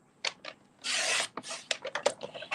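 Designer paper for cards being cut on a trimmer, with a short scraping slide, one longer steady rasp of the cut, then several quick taps and rustles as the sheet is handled.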